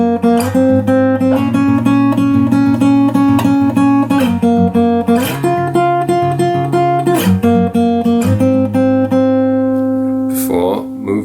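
Guitar strummed through a song verse: steady rhythmic chords ring continuously, with chord changes every few seconds, played loud and close with no talking.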